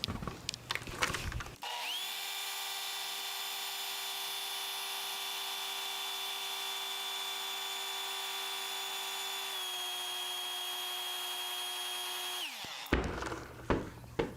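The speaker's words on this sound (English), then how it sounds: "I'm gonna make the beach ball levitate by placing it on top and turning my leaf blower on" A leaf blower with a beach ball resting on its airflow starts up and runs as a loud, steady high-pitched whine for about eleven seconds before cutting off abruptly.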